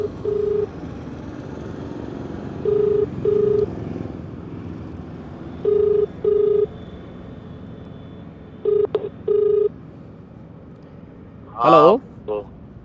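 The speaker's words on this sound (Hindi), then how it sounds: "फिलहाल फ़ोन कर दिया हमने" A phone number being dialed on a telephone before a call to a local politician: a series of short, even keypad tones in separated bursts, fairly loud over a steady background hum, with a brief warbling ring near the end.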